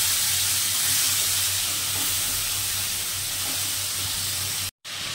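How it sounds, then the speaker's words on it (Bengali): Ginger and cumin paste fries in a pan for a vegetarian moong dal, giving a steady, close broadband sizzle with a low hum beneath and a brief cutout near the end. "এবারে দিয়ে দেব আদা আর জিরে বাটা।"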